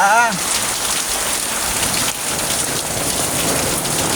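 Steady rain pours down onto surfaces nearby, a dense, continuous hiss of drops that holds at an even loudness from start to finish.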